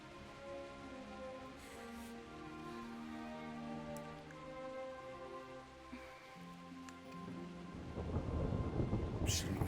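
Thunder rumbles and rain falls in a medieval setting in the video game Kingdom Come: Deliverance, with low rolling booms and steady patter that swells into a louder, harsher burst of rain and thunder near the end.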